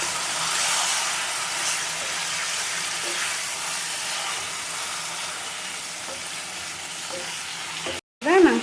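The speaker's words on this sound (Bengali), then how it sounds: "এবার মাংসটাকে ভালোভাবে নাড়িয়ে নিচ্ছি।" Chicken pieces frying in a pan for gravy are stirred, giving a continuous close sizzle with soft scraping, then a brief cut and a sharp clatter right at the end.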